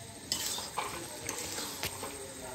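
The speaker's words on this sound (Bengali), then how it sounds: "আবার একটু নামানোর আগে থেতো করেও দিই" A utensil scrapes and mashes dried fish curry with eggplant in a hot pan, giving close stirring and scraping strokes over a low sizzle, with a few sharper clinks of metal against the pan.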